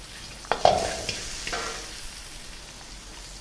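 Mustard seeds, fenugreek seeds, hing and green chilies hit hot oil, a sudden burst of crackling and sizzling that fades into a quieter, steady fry.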